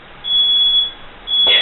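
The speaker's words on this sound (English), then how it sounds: "Fire alarm going off." A home smoke alarm going off indoors, two loud sustained high-pitched electronic beeps with a short gap between them, close and piercing with no talk.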